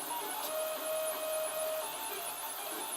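A 3D printer with an E3D-clone hot end and 0.4 nozzle prints black 1.75 mm PLA, giving a quiet, steady whine of stepper motors with faint tonal shifts and no talk.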